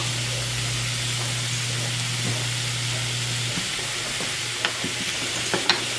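Zucchini and other vegetables sautéing in a pan, a steady hissing sizzle under a low constant hum, with a few light clicks and taps toward the end.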